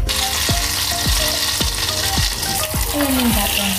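Butter sizzles and crackles steadily in a hot pan, with a steady frying hiss and several quick swishing stirs or scrapes as it cooks.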